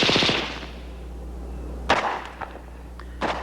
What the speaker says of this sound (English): Special devices on the mount allow different modes of fire, such as limited searching fire